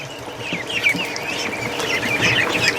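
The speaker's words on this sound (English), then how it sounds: "Right now I got a whole bunch of little ducklings at my feet." A crowd of small ducklings gathered at someone's feet, peeping with high, rapid, overlapping cheeps close by while pecking at boots, continuous and fairly loud, with no voices.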